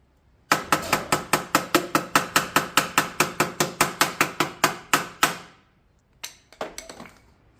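Repeated tapping with a hammer on a rusty Vauxhall Corsa B wing during a rust tap test, about twenty sharp metallic knocks in a fast steady rhythm, close and loud, then a brief pause and a few more irregular taps.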